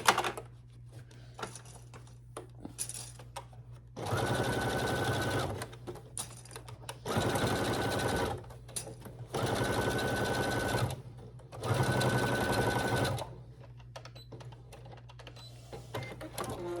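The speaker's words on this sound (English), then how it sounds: "I'm gonna start with a back stitch, and then go across." A sewing machine stitching a tote bag with a back stitch, running in four buzzing bursts of a second or two each, separated by short pauses with small handling sounds, close and moderately loud.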